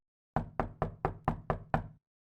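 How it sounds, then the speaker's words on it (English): Seven quick, evenly spaced knocks land on a door, crisp and close, each with a short dull thud, and then the knocking stops. Nothing else is heard. "he heard a knock on the door"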